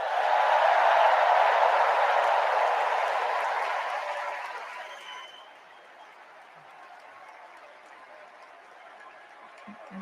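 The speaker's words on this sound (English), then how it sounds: "applause to our First Lady" An audience applauds the First Lady, Jill Biden, with a loud, dense wash of clapping that gradually fades to quiet room tone by the middle, followed by a few faint stray sounds.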